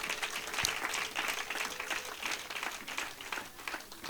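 A church congregation at an ADEPR service bursts into sustained, dense applause, steady and fairly distant with no speech over it.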